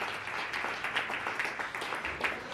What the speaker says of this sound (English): Gets a deserving applause